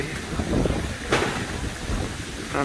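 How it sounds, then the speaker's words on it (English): Wind gusts rush across the microphone at a tropical beach in Cancun, a steady broadband roar with a brief louder buffet near the middle and another at the end. "It's really windy."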